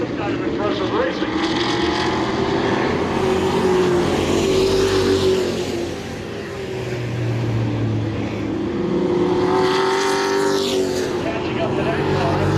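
Stock cars race in a pack around an oval track, engines roaring loud and continuous and rising and falling as the cars pass through the turns, while a commentator talks over the noise.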